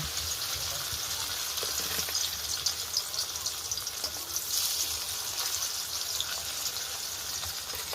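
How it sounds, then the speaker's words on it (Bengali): Steady, soft sizzling of paneer frying in oil, a continuous hiss with faint crackles throughout and no talking. "তোমার দিদি পনির ভাজছে।"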